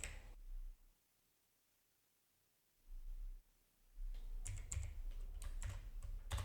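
Typing on a computer keyboard comes in as a close run of rapid clicking keystrokes toward the end, after a stretch of quiet and low rumble, with no voice.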